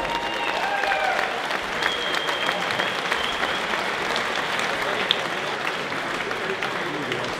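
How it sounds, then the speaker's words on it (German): A crowd at a Muay Thai fight event applauds the two fighters, a sustained wash of dense clapping and crowd noise, with faint whistles and voices mixed in. "auch diese beiden Sportler bekommen von euch einen Dankeschön-Applaus"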